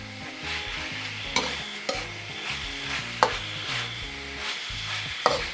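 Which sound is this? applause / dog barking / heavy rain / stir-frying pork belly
stir-frying pork belly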